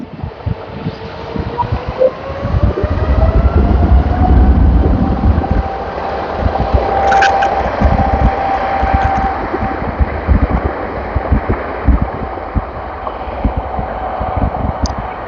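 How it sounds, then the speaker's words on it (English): KLM Boeing 777 taking off from the Aalsmeerbaan runway at Amsterdam Schiphol, a steady broadband jet roar with a rising engine tone, loud and sustained throughout, mixed with wind buffeting on the microphone. "KLM 777 off to Asia."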